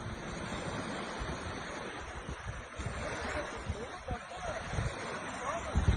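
Surf and rushing seawater along a Turkish shoreline as tsunami water comes in after an earthquake, a rough continuous roar with wind buffeting the microphone.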